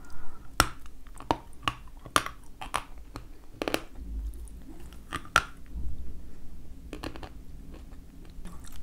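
Crunchy Kyrgyz candy chewed close to the mic, giving sharp irregular crunches and bites at first that soften into quieter sticky chewing.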